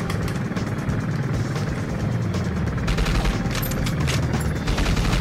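Rapid, dense gunfire from the video game 007 Agent Under Fire, a continuous loud barrage of overlapping shots that holds steady for about five seconds with no pauses.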